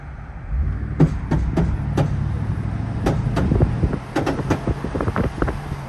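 Front suspension of a lifted 4x4 truck clunking and creaking under acceleration, a series of sharp knocks and creaks over a low idling engine rumble, close by.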